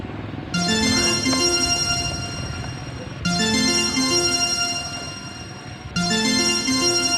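A bright electronic phone ringtone plays a repeating melodic phrase three times, loud and close, each cycle starting abruptly.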